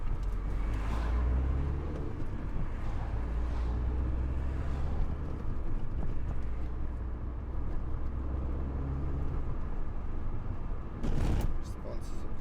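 A Mini Cooper fitted with a RaceChip tuning module in efficient mode drives along, with a steady low engine and road rumble throughout and a brief louder burst near the end.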